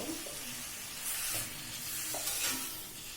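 Tomato and mint chutney sizzles lightly in a pan while a spoon stirs it, producing a steady soft frying hiss with intermittent scraping swells, fairly quiet and close.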